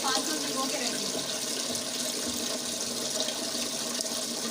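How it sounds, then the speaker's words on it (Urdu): Tap water pours steadily into a cooking pot being filled to soak spinach for palak gosht, a continuous close splashing rush that does not let up. "پھر اس پتیلے میں پانی بھرنا ہے"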